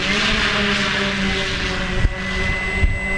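The engine of an FMS Corsair 1700mm RC plane buzzes loudly and steadily up close with a high electric whine, with a couple of brief bumps near the end.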